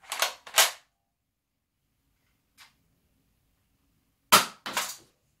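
A Nerf Accustrike Alphahawk blaster fires in sharp, close pops: two quick shots, a faint one after a pause, then two more in fast succession, with silence between.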